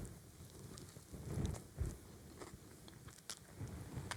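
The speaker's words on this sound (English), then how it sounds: "So let's take a bite." A bite into a corned beef sandwich with mayonnaise, mustard, dill and pickles gives soft, close crunching and chewing, a few quiet bursts over low background noise.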